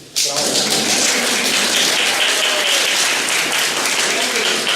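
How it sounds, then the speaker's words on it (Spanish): An audience at a national congress breaks into applause right at the start, a dense wash of clapping that holds loud and steady to the end. "un aplauso para las mujeres"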